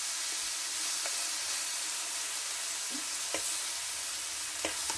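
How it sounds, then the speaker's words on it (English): Thin-sliced Philly steak frying in a pan, a loud steady sizzle with sharp intermittent clicks and scrapes as a fork and spatula break the meat apart. "You can kind of break this up a little bit with a fork and this spatula."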